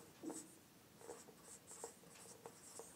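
Pen or chalk writing out a physics proof on a lens-combination formula, a series of faint scratching strokes with short pauses, quiet and close, no voices.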